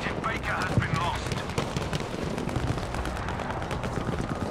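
Enemy gunfire in Battlefield V during a Breakthrough match on Narvik, with dense, continuous bursts of shots and explosions, a loud and busy battle mix and a voice speaking over it.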